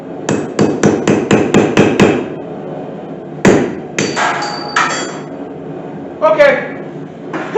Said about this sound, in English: Let's grab a center punch and mark on the other side.